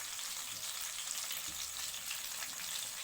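Kerala-style fish fries in hot oil in a pan, a continuous close sizzle and crackle that stays even throughout with no voices.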